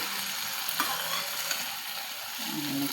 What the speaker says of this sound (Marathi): कांदा आपला भाजला का बघून घेते आता ही भेंडी याच्यामध्ये टाकून देते